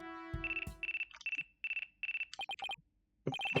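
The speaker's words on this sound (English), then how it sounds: "Looks like I have a phone call." A phone rings in the Ace Attorney Dual Destinies video game, giving a repeated electronic ringtone in short, evenly spaced bursts with brief pauses, loud and close, preceded by a couple of sharp game sound effects.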